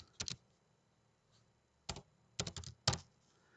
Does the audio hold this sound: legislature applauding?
no